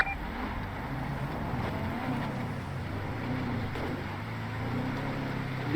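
A car drives through the streets in a Yakuza video game, its engine giving a steady, even drone with a faint wash of road and wind noise throughout, and no one talks.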